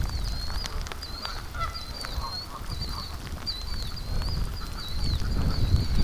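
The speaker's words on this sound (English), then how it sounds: "2 Canada geese there, and then there's 2 down at the creek" Canada geese honk repeatedly in short nasal calls from a moderate distance near a yard and creek, over a constant outdoor rumble.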